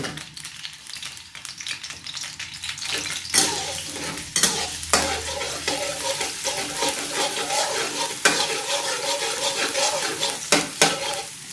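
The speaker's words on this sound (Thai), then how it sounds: "เราตั้งกระทะให้ร้อน ก่อนนะคะ แล้วก็เดี๋ยวเราใส่กระเทียมเลยค่ะ" Continuous hot frying sizzle of garlic in a pan, with occasional stirring scrapes and clinks of a utensil against the metal, close and steady.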